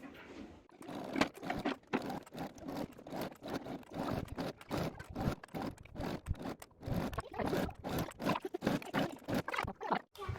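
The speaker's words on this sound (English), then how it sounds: "now we are just going to sew as close to this edge as we can get" A sewing machine stitches along the edge of fabric bunting flags, a quiet, steady rapid chatter of needle strokes running almost continuously with brief pauses, no talk.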